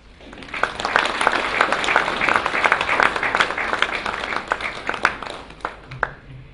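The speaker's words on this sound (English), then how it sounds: "please, another round of applause for His Excellency, the President" A room of guests at Fiji's FDB Small & Medium Enterprise 2018 Awards claps for the Fijian President. Dense applause builds quickly, holds for several seconds, then thins to a few scattered claps.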